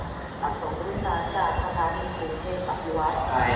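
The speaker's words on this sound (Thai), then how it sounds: "ขบวนมาแล้วนะครับผม" Special express train No. 13 from Bangkok's Krung Thep Aphiwat bound for Chiang Mai pulls into a station. Its wheels give a loud, close, sustained metallic squeal over rumbling rail noise, with a voice faintly underneath.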